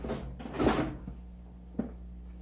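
The plastic front panel door of a dusty AMD FX desktop computer case swings open with a muffled rustling clunk, then a short sharp click follows about a second later. Nearby and moderately loud, with no talking.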